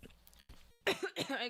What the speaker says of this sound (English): I'm sorry about the cough